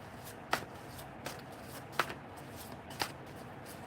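A deck of cards being shuffled and cut, a few crisp riffling snaps standing out at irregular intervals over a quiet room background, close by with no talking.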